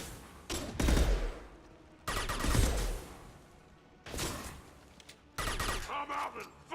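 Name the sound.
gunfire in a video game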